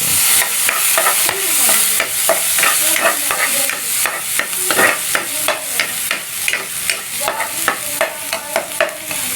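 Garlic sautéing in hot oil in a wok while making ginisang ampalaya, a steady sizzle broken by repeated scraping and stirring strokes of a utensil against the pan, close and fairly loud with no talking.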